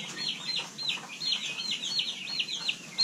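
Meat-bird chickens clucking, a string of soft, repeated clucks and chirpy calls at moderate distance over a quiet background, no talking.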